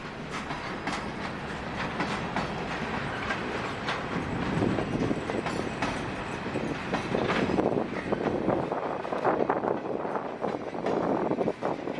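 A freight train of gondolas and hoppers rolls steadily past on a New England shortline near Willimantic, a continuous loud rumble with rhythmic clickety-clack of wheels over rail joints throughout.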